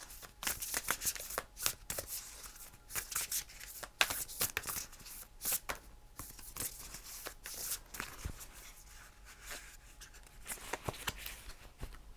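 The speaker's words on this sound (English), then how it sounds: "let's go ahead and pull you some more cards, see who else wants to come in for you." Tarot or oracle cards shuffled and pulled by hand, with rapid riffling bursts and soft flicks in an irregular rhythm, close and fairly quiet.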